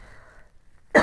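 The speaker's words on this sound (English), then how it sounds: "I'm going to have to cough." A hum trails off into near silence, then a single sharp, close cough bursts out at the end.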